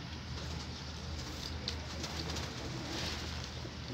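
Farm pigeons coo softly at close range, low repeated throaty calls over a faint, noisy background with no voices.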